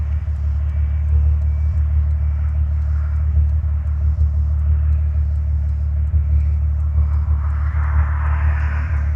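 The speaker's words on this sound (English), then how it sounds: "I'm testing to see how bad the audio is inside of this extremely noisy Jeep" Steady, loud low rumble of a 1997 Jeep engine and road noise filling the cabin while driving, droning continuously with no letup.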